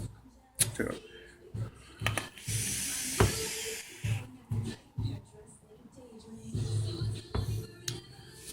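A vaper draws on a white label atomizer (4 mm non-adjustable airflow holes) filled with strawberry custard max VG e-juice, producing a breathy airy hiss lasting about a second, amid close breathing and murmured voice sounds.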